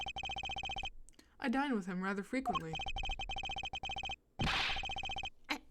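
Telephone ringing in Apollo Justice: Ace Attorney, a steady electronic ring pattern repeating in bursts through most of the clip, interrupted by a stretch of game voice dialogue and a brief noisy effect near the end.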